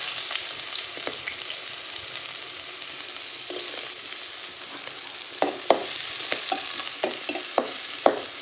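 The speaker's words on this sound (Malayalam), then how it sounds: "അപ്പോൾ എണ്ണ ചൂടായി വരുമ്പോൾ ഈ സവാള ഒഴിച്ചു കൊടുക്കും." Sliced onions frying in hot coconut oil in a pan, a steady close sizzle with scattered crackles and a few sharp clinks of stirring near the end, no talk.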